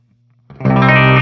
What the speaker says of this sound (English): So you can hear there we have a constant kind of resonance.